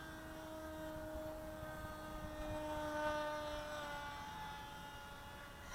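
An RC model plane with an unbalanced propeller flies over a lake in the evening, giving a steady, faint, buzzing whine that holds a constant pitch from a distance.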